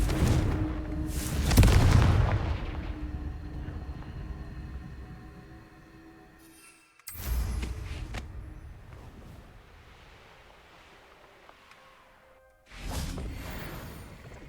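In the video game Hogwarts Legacy, the Confringo explosive spell is cast three times, each a loud, deep booming blast that rolls away slowly over several seconds before the next.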